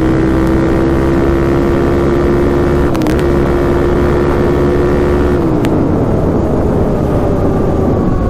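A Suzuki LTZ400 quad engine drones loud and close while riding, holding a high, steady pitch before the revs drop away, with wind rushing across the microphone.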